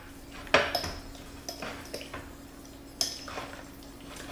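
Cream cheese spread for a veggie pizza is mixed in a bowl, with a utensil clinking and scraping against the bowl in several sharp taps and softer strokes, close and uneven.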